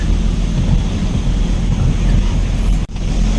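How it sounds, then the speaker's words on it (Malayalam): Heavy rain drums steadily on a truck during a drive near Parakkal, Kottayam, a dense, unbroken wash of noise with one brief dip near the end. "മഴയ്ക്ക് പവർ കൂടി വരിക"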